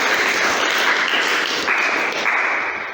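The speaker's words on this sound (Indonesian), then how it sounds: "beri tepuk tangan buat Mbak Anissa Melani." A classroom gives a student a round of applause, with steady, fairly loud clapping running continuously and then tapering slightly at the close.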